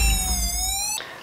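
Alarm siren of an Anni security camera system with DVR, triggered by truck exhaust through its gas detection: a loud electronic wail gliding in pitch for about a second before cutting off, over a low engine rumble.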